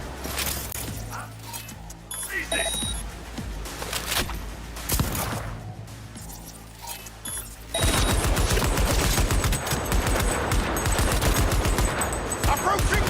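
Gunfire in the shooter Cyberpunk 2077, scattered shots and clanks at first, then from about the middle a loud, dense barrage of rapid automatic fire that keeps going to the end, with voices calling out over it.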